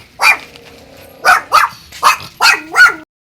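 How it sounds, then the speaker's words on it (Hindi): A dog barks five or six times in sharp, fairly loud bursts, one lone bark followed by a quick uneven series, with no talking, outside a friend's house in a village. "और डॉगी किसका है?"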